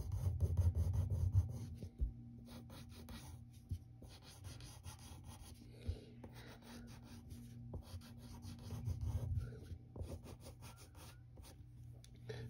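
A pencil sketching lines for a Batmobile wheel on paper makes soft scratchy strokes, heavier in spurts and then lighter, close and quiet, with no voices.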